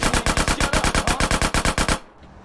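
Rapid, evenly spaced shotgun blasts in GTA San Andreas Definitive Edition, about fifteen loud close bursts in under two seconds, then breaking off into quiet.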